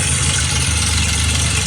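A Mazda RX-7 rotary engine with an exhaust leak idles close by, a steady low rumble with an even pulsing beat that holds at one level throughout, with no talking.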